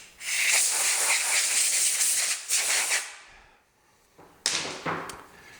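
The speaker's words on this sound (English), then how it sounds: "But I'm just going to blow it off with air." Compressed air blowing dust off freshly sanded wood before staining: loud, close hissing bursts, one long blast of about three seconds, a short pause, then a second shorter blast.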